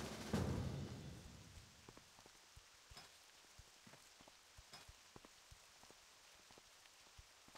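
Soft, distant rain in World of Warcraft Classic while travelling through an elven forest, a quiet steady wash dotted with scattered raindrop ticks and a slightly louder patter right at the start.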